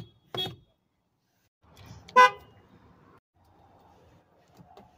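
A car horn with a broken, failing sound gives two short separate honks, the second louder and buzzier, close and alone against near silence with faint background rumble.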